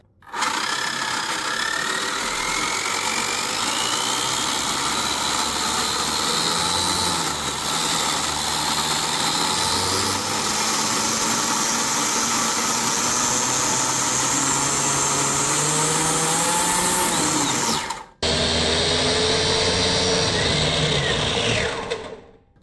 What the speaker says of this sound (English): This thing spins so fast.